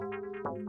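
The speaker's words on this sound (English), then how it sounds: "So a kind of a hollow FM bell-like sound." A hollow, bell-like synthesizer tone repeats in short notes with a steady pitched hum underneath, clean and close.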